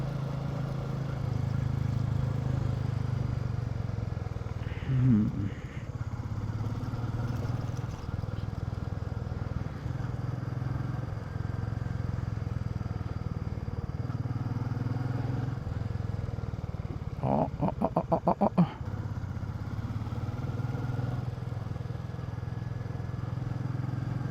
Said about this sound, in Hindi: बाइक्स आ चुकी हैं, हमारी सारी बाइक साथ साथ ही चल रही हैं अब तो।